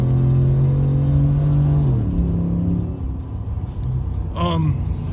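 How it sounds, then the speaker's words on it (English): A truck's engine rumbles loudly and close by, holding a steady drone before its pitch drops and it idles and shifts, with a brief rising whine near the end, heard at a bait shop stop on an ice fishing trip. "A little unnecessary loud truck noise here."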